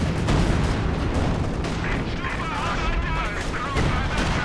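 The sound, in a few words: anti-tank guns firing in video game Company of Heroes 2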